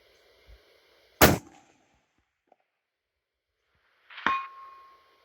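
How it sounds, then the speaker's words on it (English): A Kimber Hunter Pro rifle is fired at a steel plate target. A sharp loud shot is followed about three seconds later by a distant ringing clang of the plate being hit. "And third shot, steel plate."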